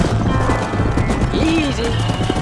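Horses in the video game Red Dead Redemption being led into a pen, with soft hoof clip-clop and a brief whinny over a steady bed of game ambience and low voices.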